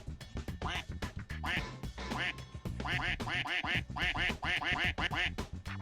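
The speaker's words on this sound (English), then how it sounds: "Bill Miller's Duck is in the building." A duck quacks loudly and over and over in quick bursts, a dense rhythmic run of nasal quacks that carries on for several seconds with no talking over it.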